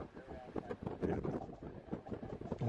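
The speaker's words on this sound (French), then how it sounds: "Il y a beaucoup de vent, on l'entend, hein, on entend le vent" Strong wind buffets the microphone in Japan, with loud, gusty rumbling that rises and falls as it batters the recording in continuous surges.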